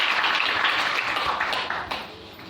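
A church congregation applauds, a brief burst of close, dense clapping that gradually fades over a couple of seconds.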